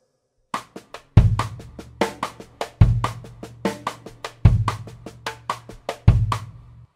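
Songo drum groove on a kit, with crisp cross-stick clicks over a steady pattern and a bass drum thump landing on the last note of each phrase in place of a snare accent, repeating four times, close and alone.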